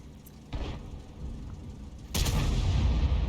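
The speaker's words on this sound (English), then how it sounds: "the Conqueror Gun Carriage fires one in" Conqueror Gun Carriage artillery firing in a tank battle game, a muffled boom early on, then a heavy, loud blast with a lingering rumble.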